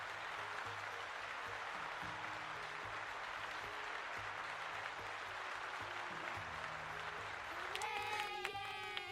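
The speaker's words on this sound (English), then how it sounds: "Let's give Cole a round of applause." Faint, steady applause from a small audience runs throughout as a continuous wash of clapping, with a brief chime-like tone entering near the end.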